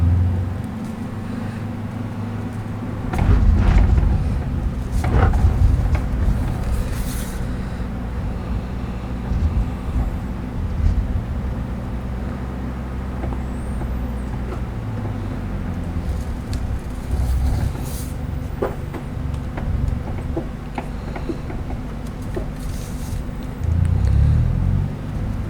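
A car engine struggles and revs hard in bursts, rising and falling through an uneven low rumble with louder surges near the start and end, and no talking over it.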